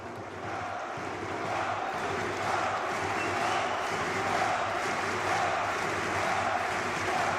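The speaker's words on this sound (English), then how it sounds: "This crowd is great." Large esports arena crowd at BLAST Open Lisbon grand finals, a steady loud roar of cheering and chanting that fills the hall without a break, with faint voices mixed in.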